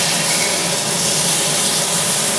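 A rib eye steak sizzles loudly and steadily in a hot pan right after flipping, a dense, even hiss of spitting fat with no pauses.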